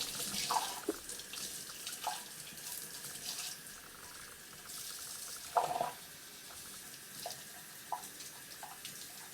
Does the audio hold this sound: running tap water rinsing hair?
yes